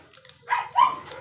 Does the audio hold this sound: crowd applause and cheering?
no